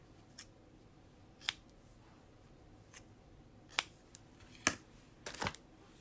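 Paper being cut with scissors for a handmade friendship card, a few sparse, separate snips and crisp clicks spread across a quiet room, the last ones bunched close together near the end.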